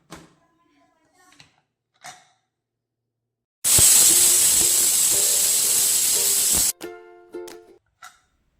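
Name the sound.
pressure cooker whistle releasing steam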